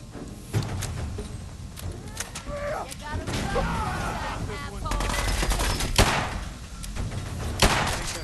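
Gunfire in the Fallout 4 video game, a mix of sharp shots and bursts with thuds scattered through a busy, noisy battle scene, with speech among the effects.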